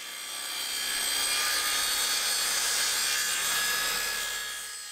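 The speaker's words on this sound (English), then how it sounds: "here I'm cutting the timbers to length and putting them in position" A saw cuts timber lengths for shed stud wall frames, one steady rasping cut that swells and fades over several seconds, close and without talk.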